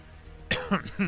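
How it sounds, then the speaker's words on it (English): Two or three harsh, close coughs in quick succession after a brief quiet moment. "Sorry about coughing per usual, but still sick."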